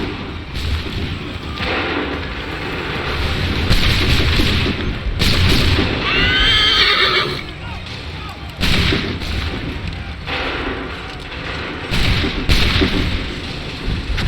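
Cannon fire and musket volleys crash in a battle of the Assassin's Creed 3 video game, a run of heavy booms and sharp shots repeating loudly with brief gaps, some overlapping into dense bursts.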